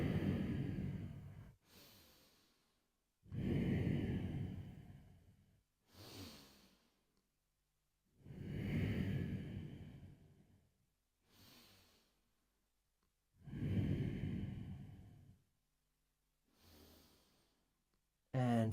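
Slow, deep yoga breathing in a regular cycle: long, loud breaths of several seconds alternate with shorter, softer ones, separated by quiet pauses, close up and with no speech.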